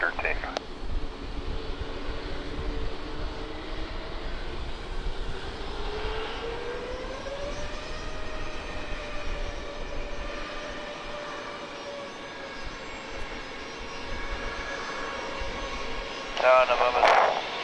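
A Southwest airliner takes off from runway 27 at San Diego's Lindbergh Field, its engines a broad, rising roar in the distance while radio voices from the control tower talk over it.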